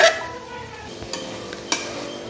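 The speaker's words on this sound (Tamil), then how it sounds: "கொஞ்சம் காயை நல்லா வதக்கி விட்டுக்கோங்க" Mixed vegetables for vegetable biryani sauté in a pan, with a soft steady sizzle and a few scattered spoon scrapes and taps against the metal.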